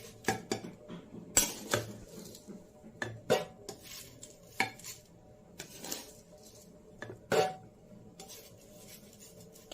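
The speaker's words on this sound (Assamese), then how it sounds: "এতিয়া পোলাওৰ চাউলখিনি লাহে লাহে ইয়াতে দি থাকিম।" Pulao rice poured gradually into a pressure cooker with bay leaves, giving scattered clinks and rattles of metal and grains against the pot, spaced irregularly and close, with no talk.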